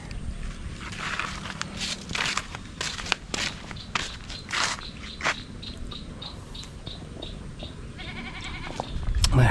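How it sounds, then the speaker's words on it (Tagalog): Hungry goats bleating on a farm, several wavering cries near and far at a low overall level amid rustling, insect buzz and footsteps. "Umiyak na yung mga kambing, gutom na."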